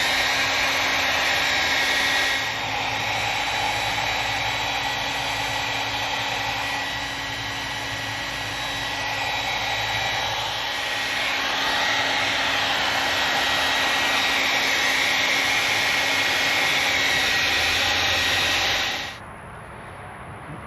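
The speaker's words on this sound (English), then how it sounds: "to start off, I'm just going to be blow drying it" An inexpensive Revlon hair dryer blows steadily on a 2003 Harley-Davidson fuel tank badge, a loud continuous whooshing hiss with a whining tone that runs for most of the time, then cuts off near the end.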